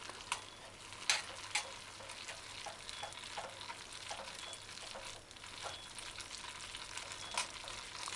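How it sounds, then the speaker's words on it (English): Powdered cheese stirred into a sauce with pasta, soft repeated scraping and tapping strokes over a faint, steady sizzle, quiet and close, with no talk. "stir in until the powdered cheese is melted"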